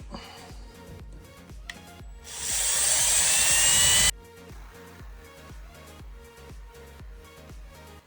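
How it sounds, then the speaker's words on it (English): Steady rhythmic music plays, then a loud high-pitched power drill whines for about two seconds, boring a starter hole for a van window cutout, before cutting off abruptly. "do a little drill hole here and then work his way up with the jigsaw"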